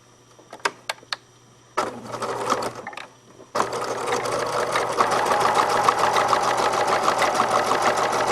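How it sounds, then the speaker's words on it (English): Sewing machine stitching binding tape down onto a garment seam: a few short isolated taps, then bursts of rapid mechanical needle clatter, followed by a long steady run of fast, close stitching. "now I'm going to sew the other side of the tape down"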